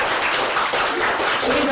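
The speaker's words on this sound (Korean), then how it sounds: "우리 박수로 예수님께 영광드립니다" A church congregation claps together in a loud, dense, continuous burst that fills the whole moment.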